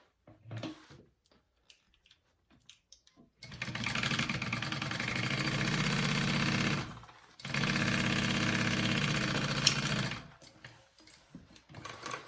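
A home sewing machine runs in two sustained bursts, stitching up the pocket of a fabric bucket bag, with a brief pause between runs and quiet handling noises before and after.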